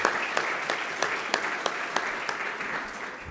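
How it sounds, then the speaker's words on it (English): A dinner audience applauds at a Washington summit banquet with the Jewish Caucus, giving steady, dense clapping that holds at an even level for a few seconds, with a few sharper individual claps standing out. "So let's give a big round of applause to David."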